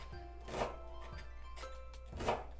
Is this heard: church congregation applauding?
no